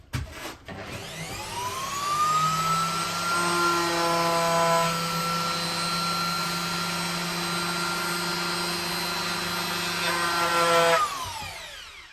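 A wood router spins up with a rising whine, holds a steady high-pitched motor tone for several seconds while cutting, then winds down at the end, loud and close.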